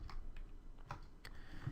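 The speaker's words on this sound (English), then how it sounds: "I'm just going to kind of use my arrow keys" Computer keyboard arrow keys pressed during Photoshop editing, giving a few quiet, sparse clicks spread over under two seconds against a faint background hum.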